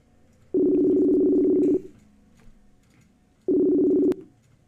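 Telephone line tones on a call: two long, steady, loud low beeps, the first about a second and a quarter and the second shorter, separated by quiet line hiss.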